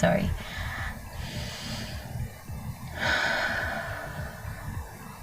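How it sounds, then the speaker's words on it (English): Slow deliberate breathing close to the microphone, two or three long breaths in and out, breathy and soft against a quiet low hum. "The first one, conscious breathing."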